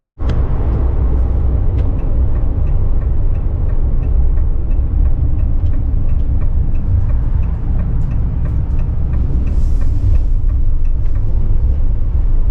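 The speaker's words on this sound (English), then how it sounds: "Let's take this baby out for a spin" A 2024 Ram ProMaster 3500 high roof cargo van drives along with a loud, steady low road and engine rumble from inside the cabin, continuous with faint rattles.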